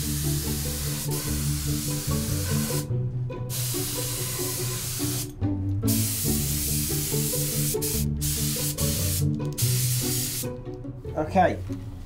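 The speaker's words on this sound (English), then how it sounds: "So now I need to mask up the areas that I want to stay white in preparation to spray the red" Bursts of aerosol spray hiss as red paint is sprayed, starting and stopping several times over a steady background tone, with a few short pauses between sprays.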